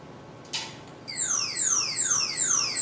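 A radio telescope event signal rendered as sound: a brief hiss, then a series of high whistling tones sweeping downward, repeating at regular intervals. Steady and moderately loud.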